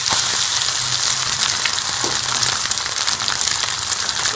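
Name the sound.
kebabs frying in a pan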